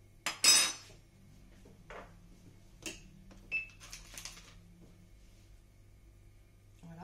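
A knife clicks and taps against a plate or board while soft butter is cut into small pieces for chocolate chip cookies, a few sharp clinks spaced apart over a quiet room hum.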